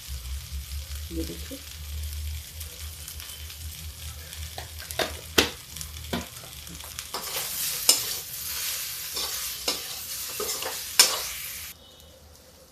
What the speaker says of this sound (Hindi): इसको धीमी आंच में गुलाबी गुलाबी भून लीजिए